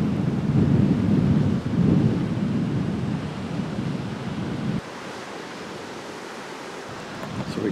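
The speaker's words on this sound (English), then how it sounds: "We keep getting these fairly extreme gusts of wind" Heavy roaring wind buffets loudly in strong gusts in the Temagami wilderness, then eases to a lower, steadier rush.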